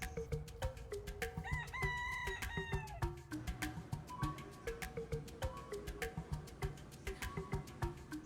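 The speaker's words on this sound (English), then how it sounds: "there are feral roosters that live in the parking lot" Several feral roosters crow in overlapping calls in a parking lot over a busy background of scattered clicks and taps, the crows loud and near, rising and falling.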